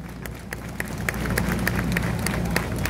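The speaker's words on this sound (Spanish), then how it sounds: "regalándoles un fuerte aplauso a nuestros ganadores" An outdoor award ceremony for race winners fills with clapping that starts moderate, then swells and holds as a steady crowd applause with rapid individual claps.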